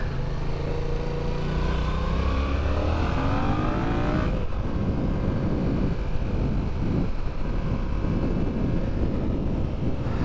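A 2019 Yamaha XSR700 motorcycle accelerates hard through rising gears, its engine note climbing and shifting, then roaring steadily under heavy wind rush from riding at speed.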